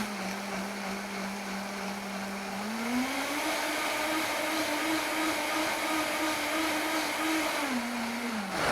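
A countertop blender whirs steadily while blending cashew creamer, its motor pitch stepping up a few seconds in as it is cranked higher, then dropping back near the end, loud and continuous with no talk.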